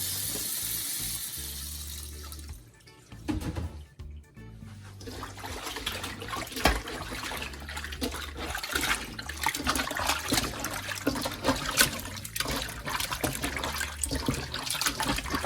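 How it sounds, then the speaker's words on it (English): Pigtail meat is washed by hand in water with vinegar, producing continuous close sloshing and splashing with running water, briefly dipping quieter before the swishing resumes strongly. "In here, we wash our meat."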